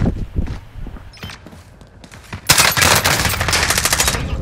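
Scattered single shots and footsteps give way to a sustained burst of rapid automatic gunfire, loud and close, continuing to the end.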